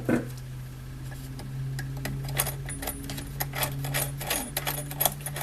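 Pliers working a nut off an exit alarm keyswitch: small metallic clicks and ticks that grow busier toward the end, over a steady low electrical hum.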